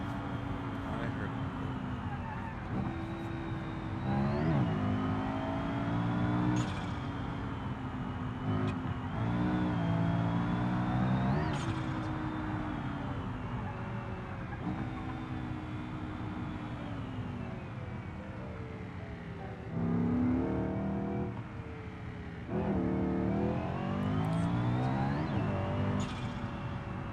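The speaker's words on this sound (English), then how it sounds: "I don't gotta touch anything else on this car" A car engine revs up and drops back again and again while driving, with loud surges and shifting pitch over a steady mid-range drone.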